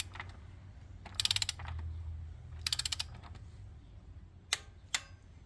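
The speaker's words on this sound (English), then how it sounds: "we got a torque wrench and we set it to 23 foot-pounds" A torque wrench set to 23 foot-pounds tightens the oil drain plug on a 2015 Chevrolet Camaro LT RS, giving a few separate bursts of sharp ratcheting clicks followed by two single crisp clicks, close and clear over a low steady hum.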